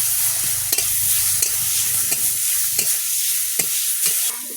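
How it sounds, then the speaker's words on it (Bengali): Chopped onion fries in a pan with a loud, continuous sizzle, broken by regular scraping stirs roughly every half second, close-up with no voices. "পেঁয়াজ কুচি দিয়ে দেবো"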